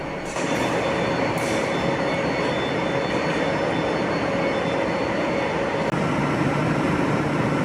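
Diesel train arriving at Carlisle from the Tyne Valley line, a steady loud rumble of wheels and engine with a faint high whine and occasional squeal, continuous throughout.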